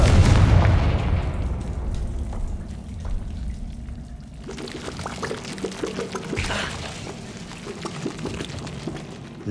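A fiery Confringo spell explosion in the Hogwarts Legacy game hits with a loud, heavy boom at the start, then decays into scattered crackles and debris pops over a quieter rumbling background.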